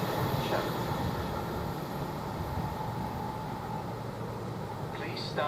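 A train runs through Durham railway station on the London King's Cross to Inverness path, a loud, steady rumble and rush that holds evenly from start to finish, with a faint brighter whine creeping in near the end.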